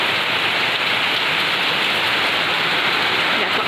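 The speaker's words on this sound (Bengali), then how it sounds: "বৃষ্টির এত জোর আওয়াজ" Heavy rain pours steadily under a dark stormy sky, a dense, loud, unbroken hiss close by with no pauses.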